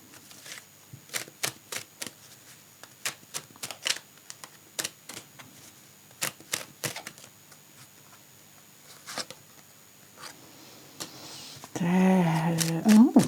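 Tarot cards shuffled and laid out during a reading, heard as a long run of sharp, close card snaps and taps at an irregular pace, followed near the end by a burst of talk.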